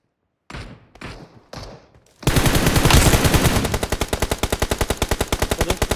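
Three short, sharp shots in BGMI, then sustained rapid machine-gun fire that settles into an even, pulsing automatic rhythm, loud and close.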